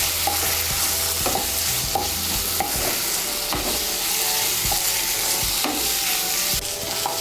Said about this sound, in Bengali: মুগ ডালটাকে ভালো করে মশলার সঙ্গে মিশিয়ে নিয়ে আমি মুগ ডালটাকে ভালো করে ভেজে নেব।